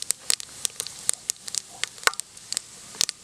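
Cinnamon, cloves and fennel seeds frying in hot oil for chicken sukka, giving soft irregular crackles and pops at close range, with no voices.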